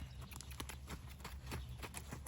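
A horse cantering in an arena: soft, rhythmic hoofbeats in quick three-beat groups, fairly faint and steady, with no talking over them.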